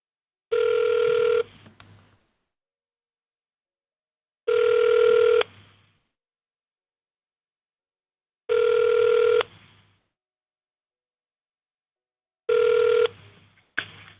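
A telephone rings back four times in steady, evenly spaced electronic bursts about four seconds apart while a call is transferred to a university IT service desk, clear and alone with silence between rings.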